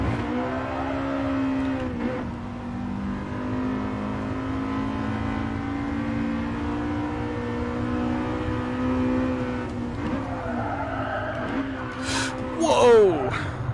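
A race car engine in Gran Turismo Sport drones at high RPM, holding a steady pitch with a brief surge near the end, under continuous spoken commentary.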